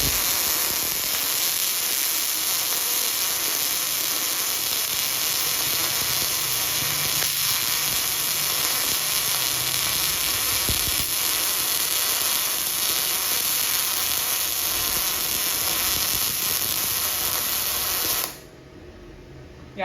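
Bestarc 145A MIG welder running solid wire with CO2 shielding gas on 120 volts, a steady loud crackling hiss that holds for about eighteen seconds and then cuts off.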